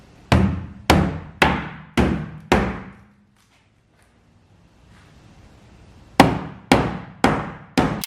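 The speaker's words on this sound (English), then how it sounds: "get a hammer and hammer this out as much as I can" Sharp metallic hammer blows on a crumpled body panel of a wrecked BMW M2 Competition, four evenly spaced strikes, a pause of quiet, then four more loud, ringing hits close by.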